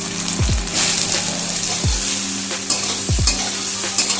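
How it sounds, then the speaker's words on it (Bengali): Soybean chunks frying in hot oil in a wok, with a steady close sizzle and three or four sharp scraping stirs of a spatula at uneven intervals. "এবার সয়াবিনগুলো ভেজে নেব।"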